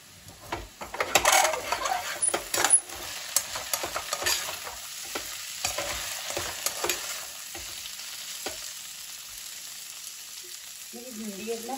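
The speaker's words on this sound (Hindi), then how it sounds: "भिंडी इतना फ्राई हो गई है" Okra (bhindi) frying in a kadhai, with a steady oily crackle and repeated scrapes and clinks of a spatula stirring, busier at first and thinning out, close and fairly loud with no voices.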